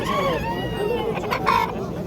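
A rooster crows nearby at a busy poultry bazaar in Namangan, one drawn-out call with overlapping clucks from other fowl and background chatter.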